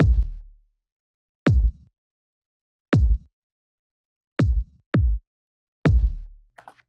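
Kick drum blended with a parallel THD-mode saturator channel for hard-hitting hip hop, six punchy booming hits alone with irregular spacing, two close together, each with a short low tail.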